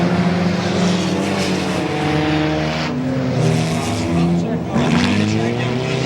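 Several race cars battle in an enduro at Goods Raceway, their engines a loud continuous roar that swells and fades as they pass, with a commentator talking over it throughout.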